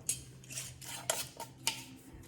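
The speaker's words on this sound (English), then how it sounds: "Put a nice little lid on, seal a bit on, and then fasten it down." A spoon scrapes fermented chilli sauce into a jar, then a lid is set on and fastened with a few crisp clinks and taps, close and fairly quiet.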